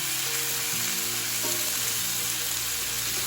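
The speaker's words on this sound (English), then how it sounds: "Adding our ground beef. Nice sizzle on that." Ground beef and onion sizzle loudly and steadily in a hot pan while the meat browns for Texas beef bowls, a dense continuous frying hiss with no talking.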